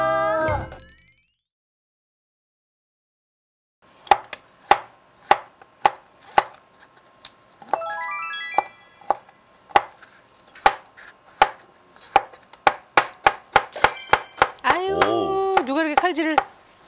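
Knife chopping food on a cutting board in a Korean home kitchen: a steady series of sharp, close chops after a short pause, with faster bursts near the end and some voices nearby.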